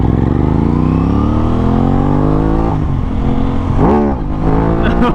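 An Aprilia RS 660 sport motorcycle being ridden, its engine note loud and close, climbing steadily through the revs, then dropping sharply with quick blips and shifts near the end.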